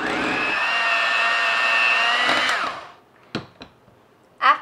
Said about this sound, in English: Then using a hand mixer,